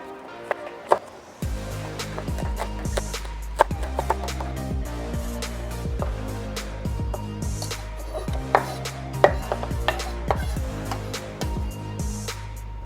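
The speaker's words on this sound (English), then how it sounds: "Next, we'll prepare our green onions." Green onions are chopped with a knife on a cutting board, with rapid, steady chops and occasional louder knocks running close and continuous for the whole stretch.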